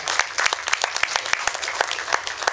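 Audience at a Michoacán writers' literary evening applauding guest author Antonio Cienfuegos, steady mid-sized clapping close by that fills the whole stretch without letup.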